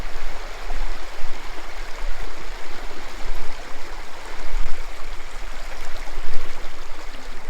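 Creek water at Ashbridge Preserve rushing and gurgling close by during a crossing on foot, a steady, fairly loud flow with small splashes and low rumbles, no voices.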